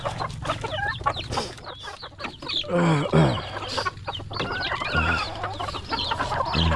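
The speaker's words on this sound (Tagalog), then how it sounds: "May isa akong manok dito na pinapakain." A chicken clucks repeatedly up close, with bird calls and busy background noise around it.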